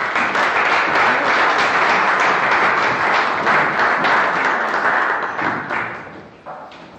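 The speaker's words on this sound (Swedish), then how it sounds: "Ge mig en applåd när de kommer upp." Loud, sustained applause from a sizable seminar audience, steady dense clapping for several seconds before tapering off near the end.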